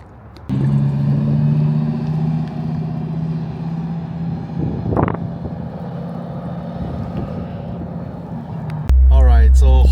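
A lowered Lamborghini Huracan Evo drives along with a passenger aboard, its engine a steady, loud droning hum from inside the cabin, rising in a brief rev midway before the sound shifts abruptly near the end.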